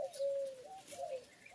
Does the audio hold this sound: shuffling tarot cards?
no